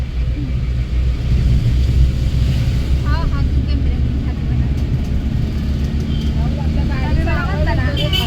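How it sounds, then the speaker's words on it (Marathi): Loud, continuous rumbling engine and wind roar from a moving vehicle, steady throughout, with faint voices barely audible beneath it. "आपल्या गाडीचा आवाज आहे."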